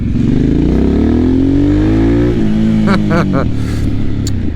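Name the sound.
Harley Sportster S motorcycle exhaust with valve open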